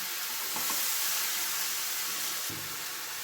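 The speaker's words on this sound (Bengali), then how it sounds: "এইবার এই মশলাটা দিয়ে আমি একটু কষাবো।" A spice paste with tomato sautés in a pan, giving a steady close hiss and sizzle with faint stirring scrapes and no talking.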